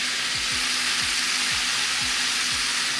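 Shrimp and lobster fry in a pan with salt, pepper and Cajun seasoning, giving a loud, steady, close sizzle with faint periodic stirring scrapes and no voices.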